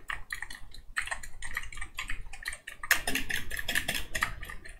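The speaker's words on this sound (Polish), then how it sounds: "posłuchacie samych przycisków klawiatury" Rapid, continuous computer keyboard typing close to a Genesis Radium 300 XLR microphone, keys clattering in quick irregular bursts with a brief pause near the middle.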